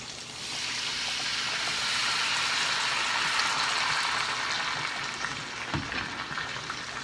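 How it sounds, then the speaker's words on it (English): Apple cider vinegar hits a hot pan with turkey and sizzles in a loud, steady, close hiss that swells and then holds, with a faint clatter near the end. "Now I'm going to add a little bit of apple cider vinegar."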